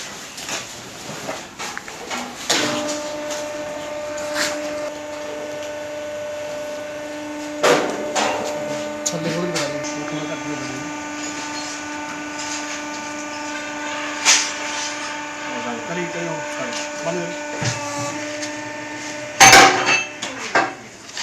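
A baling machine compresses empty plastic waste, cardboard, wrappers and bottles into bales at a municipal facility in Nangal, with a steady mechanical hum, clanks and a few sharp knocks and hisses through the stretch.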